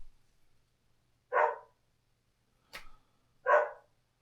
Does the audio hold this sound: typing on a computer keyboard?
no